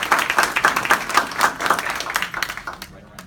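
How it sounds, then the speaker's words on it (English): Audience applause at a real estate agents' honoring event, a moderately sized group clapping with distinct individual claps audible, tapering off toward the end. "Round of applause for Hector Castillo, our regional owner."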